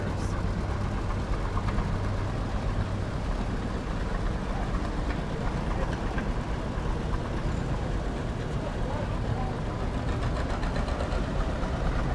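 Loud, continuous rumble of restored tractor engines running close by in a farmers day parade, a dense mechanical drone that never lets up, with no clear speech over it.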